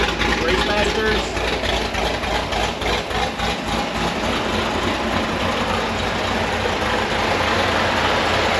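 A widebody C6 Corvette idles close by, its engine a steady, loud rumble with a rough, lumpy texture that holds constant throughout with no revving.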